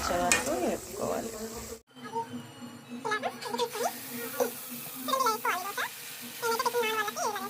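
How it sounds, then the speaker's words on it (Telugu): Peanuts frying in a pan, a soft continuous sizzle running under someone talking throughout. "పల్లీలు అయితే బాగా కలర్ వచ్చే వరకు వేపుకోవాలి"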